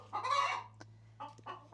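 Hens cluck in short close bursts, a longer squawking call followed by a couple of brief clucks, over a low steady hum.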